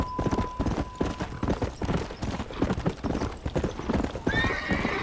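Horses in the Western ranch game Red Dead Redemption clop along steadily, hooves beating in a dense, continuous rhythm, with a sharp whinny breaking in near the end.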